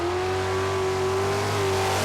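Loud, sustained engine roar of a drag racing car at Calder Park, a steady tone with a hum rising slightly, heard close and continuous for about two seconds.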